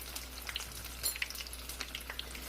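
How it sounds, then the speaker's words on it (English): Battered onion rings fry in oil on an electric stove, giving a soft, steady sizzle dotted with small crackles and pops, fairly quiet and close with no voices. "so they're frying up very nicely and beautifully"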